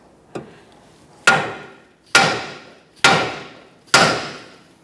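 A hammer strikes the steering knuckle of a 2014-2019 Kia Soul to free the tie rod end, landing one light tap and then four sharp, evenly spaced metallic blows close by.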